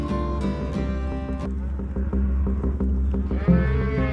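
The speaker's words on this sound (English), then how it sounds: "And the Haka family drives their cattle into an area heavily used by ATVs in the Owyhee Mountains" Cattle being driven along a road in the Owyhee Mountains moo repeatedly, several low drawn-out calls overlapping from nearby animals with steady herd noise beneath.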